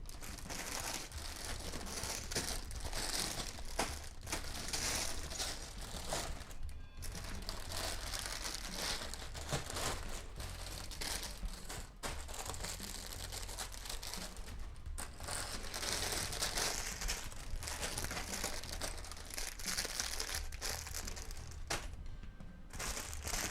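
A plastic bag of LEGO pieces is crinkled and crumpled continuously for a long stretch, the dense, close crackling rising and easing with brief pauses and no talking.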